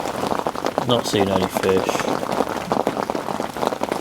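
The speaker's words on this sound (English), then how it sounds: "But yeah, still raining" Steady rain falls on a carp fishing swim at a syndicate lake in spring, a dense broadband patter running continuously throughout while someone speaks briefly over it.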